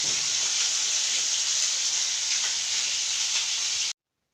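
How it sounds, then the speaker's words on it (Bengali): Fish frying in hot oil, a steady bright hiss and sizzle that holds evenly for about four seconds, then stops abruptly into silence. "এখানে মাছ ভাজা করছি।"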